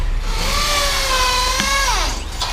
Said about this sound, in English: Sorry about the noise, guys. They're doing some drilling here.